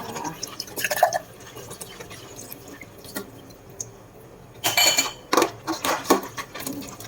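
Dishes and pots are washed by hand with gloves on, giving scattered clinks and knocks of cookware along with dripping and splashing water, quiet at first and then a busier cluster of clatter near the end.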